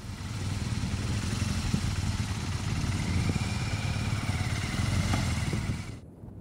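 A BMW 1200 GS motorcycle rides off-road in Colorado, its engine droning steadily with constant rumble and some clatter for several seconds before cutting off abruptly near the end.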